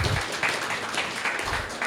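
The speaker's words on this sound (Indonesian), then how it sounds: "Tepuk tangan dong" Short burst of audience applause at a business seminar talk, a roomful of people clapping in a dense wash of sound for under two seconds.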